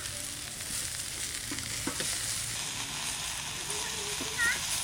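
Potatoes, green chilli, turmeric and leafy greens frying in a pan, a steady close sizzle with occasional stirring scrapes and taps, a voice speaking quietly over it.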